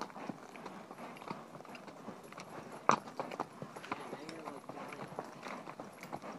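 Archie the horse walks uphill under a rider, his hooves making soft, steady clip-clops on the ground while the rider talks quietly over them.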